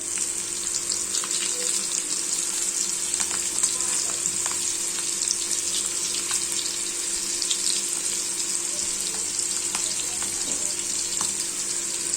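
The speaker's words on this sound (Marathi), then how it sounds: "आता इथे आपलं तेल पण व्यवस्थित गरम झालेलं आहे. मी याच्यामध्ये ते फ्राय करायला ठेवते." Prawns fry in hot oil with a steady, bright sizzle that holds evenly throughout, punctuated by small pops and crackles close by.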